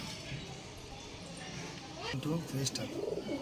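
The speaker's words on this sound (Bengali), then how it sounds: "দেখে নিন পায়রাগুলো" Pigeons coo softly in low, throaty bursts, with some rustling and faint background noise.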